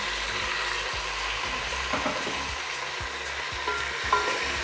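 Tomatoes hiss and sizzle as they hit a frying pan while cooking chicken palav, a steady broadband frying crackle with a few soft scraping stirs, close and fairly loud with no talking.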